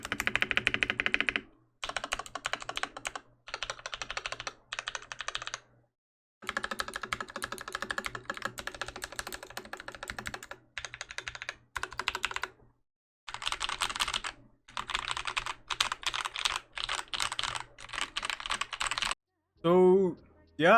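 Rapid clacky keystrokes on a custom budget mechanical keyboard come in bursts separated by short pauses, close and crisp, with a few thocky space bar hits mixed in and a brief different sound at the very end.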